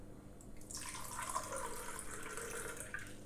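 Half a cup of water pours into a bowl for salt dough: a faint, continuous splashing trickle that starts soft and then runs steadily for a few seconds, with no voices.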